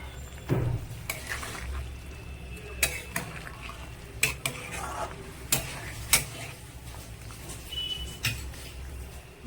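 Spice paste stirred into a pot of boiling shukto, the Bengali mixed-vegetable dish: a spoon clinks and scrapes against the pot in irregular strokes over a low simmering hiss, close by and fairly quiet, with no talking.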